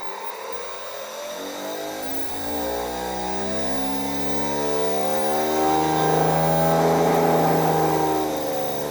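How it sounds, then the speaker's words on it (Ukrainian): An electric motor running at runaway speed on 300 volts spins up with a steadily rising whine that climbs higher and louder over several seconds, a continuous mechanical drone with no voices. "Двигун іде в рознос."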